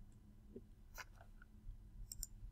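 Keyboard keys pressed on a computer while working in a maths graphing program, a handful of light, dry clicks scattered over a quiet background.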